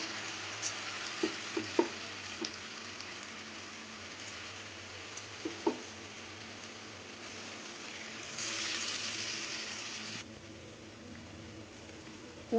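Ripe mango fritters fry in oil with a soft, steady sizzle, punctuated by a few light clinks and taps from a utensil, the frying swelling briefly louder near the end.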